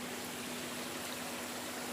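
Water draining from a catfish farm pond through an opened valve in a distribution system, a steady broadband rushing flow that runs unbroken and fairly close, with no talk over it.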